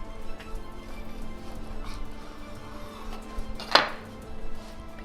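A knife slices into a fried pepper enchilada, making one crisp cutting crunch near the end over a low, steady kitchen background.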